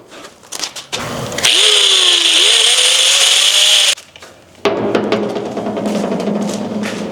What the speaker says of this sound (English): For this next step, we're going to use our angle grinder.